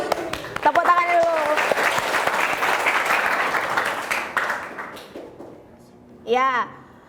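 A group of people clapping together during an icebreaker in a classroom training session, steady applause with voices over it at the start, fading near the end before a brief spoken voice.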